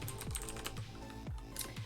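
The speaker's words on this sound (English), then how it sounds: "I type quite heavily, I think, so I get a nice loud click out of those sensations." Steady typing on a Das Keyboard mechanical keyboard by a heavy typist, a fast run of loud, crisp key clicks with occasional heavier thocks, close up and with no voices.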